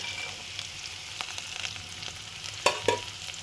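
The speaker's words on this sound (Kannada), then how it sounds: "ಶೇಂಗಾನ ಇದ್ರೊಳಗೆ ಹಾಕೊಂಡ್ಬಿಡೋಣ" Peanuts tumble into onions frying in a pan and are stirred through, a quiet steady sizzle punctuated by a few crisp scrapes and two bright clinks near the end, close up with no voices.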